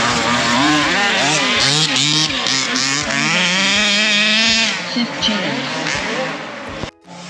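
Two-wheel and four-wheel drive RC cars, including HPI models, race on a club track in Perth, Western Australia. Their high, whining motors rise and fall as they pass nearby, loud and continuous, while someone talks over them.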